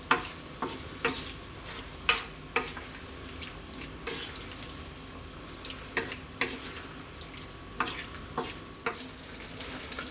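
A pot of vegetable biryani bubbles just above a simmer, with a faint steady hiss and a series of regular clinking, scraping stir strokes against the pot, close and quiet.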